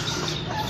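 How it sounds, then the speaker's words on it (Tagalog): Chickens cluck softly in a steady murmur of farmyard noise among turkeys and ducks, with a slightly louder squawk right at the end of the brief moment. "Mga pabo, manok, bibi."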